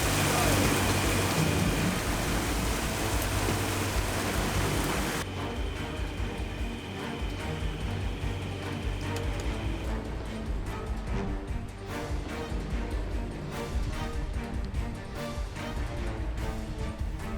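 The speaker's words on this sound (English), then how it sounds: "It is pouring, absolutely pouring." Heavy rain pours in a dense, steady roar over a boat, loud and unbroken throughout, easing slightly in tone after the first few seconds.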